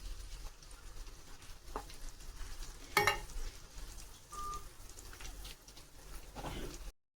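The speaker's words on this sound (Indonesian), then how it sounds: "Sekarang tinggal aku goreng ya." Spinach frying in hot oil gives a steady, close sizzle with a sharp clatter about midway and soft crackles throughout, with no talking.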